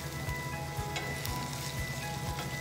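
Onions sizzle and crackle steadily in a hot pan, a constant bright hiss with occasional soft pops, close by.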